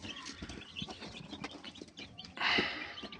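A young rooster and chickens cluck and call close by in quiet, scattered bursts, with one louder squawk near the end over a faint farmyard background.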